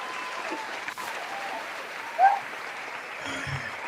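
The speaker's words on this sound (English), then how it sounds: "Hold on, let me get my applause button before you leave." Canned applause played from a sound-effect button on an online call, a faint, thin, steady clapping track with a brief louder blip near the middle.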